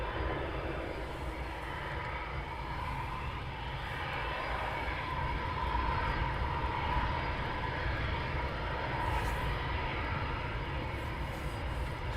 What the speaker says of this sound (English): So 2 Typhoons now taxing out.